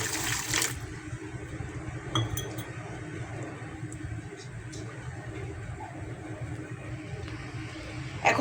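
A cup of water is poured into a rice cooker holding sugar and ash gourd pieces, giving a continuous gushing, splashing wash that stays close and fairly even, with a few clinks at the start and end.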